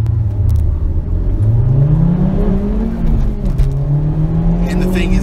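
A Honda Civic Type R drives on the road, its engine a steady close drone that climbs in pitch as it accelerates, then holds a smooth cruising hum under constant road rumble.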